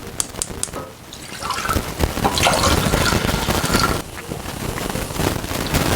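Water is poured into a cooking pot for rice, a splashing, gurgling fill that starts up after a few clicks and knocks and runs on unevenly for several seconds.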